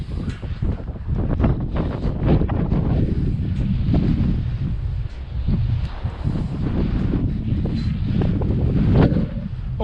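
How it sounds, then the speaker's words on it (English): Wind buffets a head-mounted GoPro microphone outdoors, a loud, continuous rumbling roar with gusty surges and dips throughout, no talking. "I'm sorry about the wind."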